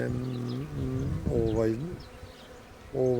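Honeybees buzzing around an open hive during a beekeeper's inspection, a close, steady droning hum that rises and bends while a voice talks over it.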